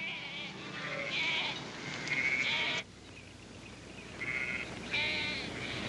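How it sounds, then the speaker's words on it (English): Sheep bleating in a farm setting, several repeated calls of moderate loudness with short pauses between them, heard alone with no talking. "Mr. Andrew, are you sure you're only borrowing the sheep?"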